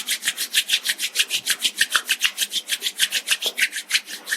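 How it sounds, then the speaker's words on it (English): Two palms rubbing briskly together in a yoga meditation class, a steady, even rhythm of about five dry swishing strokes per second, close and clear with no talking. "Now you can slowly create some energy between your hands by rubbing your palms against each other."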